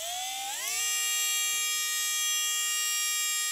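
A Castle 3800 Slate brushless motor spins up on a test bench, its high tonal whine rising quickly in pitch and then holding a steady, bright hum to the end, with no voices.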